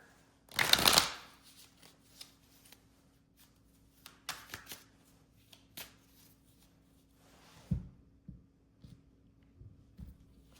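Oracle cards shuffled by hand during a tarot reading: one quick loud riffle at the start, then soft scattered taps and card flicks in a quiet room.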